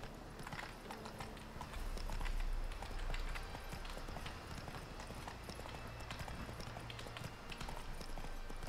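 Roach the horse gallops in The Witcher 3 video game, rapid clip-clop hoofbeats running steadily and close throughout, with a low rumble underneath.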